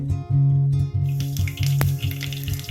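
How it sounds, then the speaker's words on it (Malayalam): Mustard seeds spluttering in hot coconut oil with fried garlic, a sizzling hiss with scattered small pops starting after a second, partly masked by steady background music. "ഇതിലേക്ക് ഇനി കടുകിടാം"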